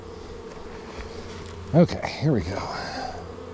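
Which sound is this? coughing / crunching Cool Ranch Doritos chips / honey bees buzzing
honey bees buzzing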